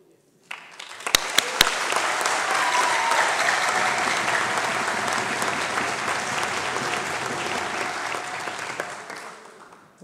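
Audience in a hall breaking into sustained applause for about nine seconds, dense and steady, with a few sharp sounds near the start before it fades out.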